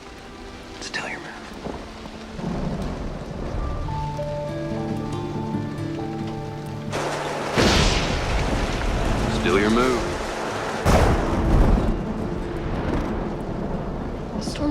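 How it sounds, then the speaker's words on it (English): A rainstorm with broadband rain noise and two loud bursts of thunder, while people talk quietly and music-like tones sit underneath. "The storm's getting worse."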